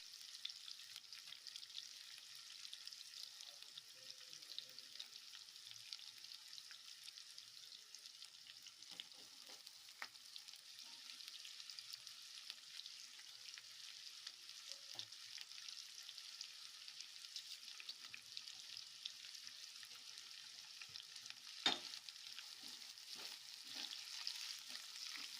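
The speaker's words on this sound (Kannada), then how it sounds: "ಹಾಫ್ ಸ್ಪೂನು ಶುಂಠಿ ಬೆಳ್ಳುಳ್ಳಿ ಪೇಸ್ಟ್ ಹಾಕೊಳ್ತಾ ಇದ್ದೀನಿ. ಒಂದು 5 ಮಿನಿಟ್ಸು ಚೆನ್ನಾಗಿ ಫ್ರೈ ಮಾಡ್ಕೊಳ್ಳೋಣ" Ginger garlic paste fries in a pan with a soft, steady sizzle that holds for the whole stretch, along with a few faint stirring clicks. No one speaks.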